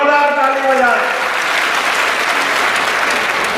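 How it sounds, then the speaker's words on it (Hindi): Loud, sustained applause from a large crowd at a public rally in Banda, Sagar, swelling over the last words of an amplified speaker and continuing steadily on its own. "जोरदार ताली बजाएं"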